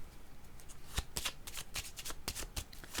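Cards for a card reading are shuffled close up in quick, crisp riffling bursts, with several sharp flutters over a few seconds and no talking.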